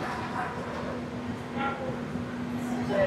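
The Chennai Howrah Mail arrives at Bhadrak railway station, with a steady low rumble of the train and a sustained hum, while occasional short barks or calls stand out over the noise.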